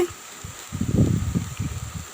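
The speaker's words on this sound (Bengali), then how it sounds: "দিয়ে এটা ভালোভাবে নেড়ে নিতে হবে প্রত্যেকটা ভালোভাবে মিশিয়ে" Ridge gourd and egg are stirred in a frying pan, giving a short run of soft, low scraping and shuffling sounds over a faint sizzle, close by and with no talk.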